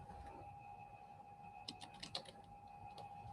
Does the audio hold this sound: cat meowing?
no